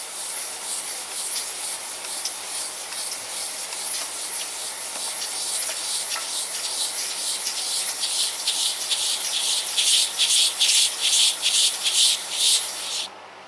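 Lapping a small engine cylinder head produces a close, continuous gritty rubbing, a soft hiss that grows louder and turns into distinct rhythmic strokes toward the end.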